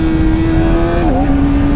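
Kawasaki Ninja ZX4RR sportbike with stock exhaust, a loud, steady high-revving engine note that drops sharply as the auto blipper downshifts, close and continuous with no talking.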